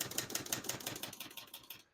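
Rapid typing on a 1969 Olivetti Lettera 31 portable typewriter: a brisk run of crisp key strikes, close and loud, clattering steadily for about two seconds before stopping.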